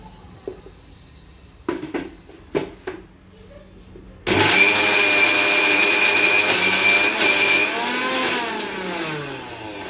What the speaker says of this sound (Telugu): ఇదంతా మిక్సీ పట్టేస్తాం.